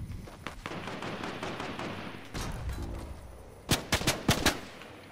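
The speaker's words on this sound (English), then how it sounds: "Yeah, keep shooting at me." Gunfire crackles in a Fortnite: Battle Royale match, scattered distant shots at first, then a close, loud burst of about five rapid cracks near the end.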